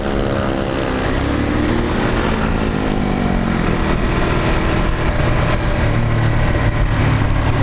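A motorcycle engine, likely a 821 cc bike, held at full throttle with running fuel trouble, gives a loud, continuous, buzzing roar that stays close and steady throughout.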